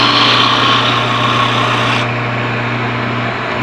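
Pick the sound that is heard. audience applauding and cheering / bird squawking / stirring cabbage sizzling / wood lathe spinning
wood lathe spinning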